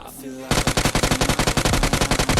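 Rapid automatic gunfire in the battle royale mobile game BGMI, a loud, close burst of evenly spaced shots that runs continuously after a brief lead-in of game sounds.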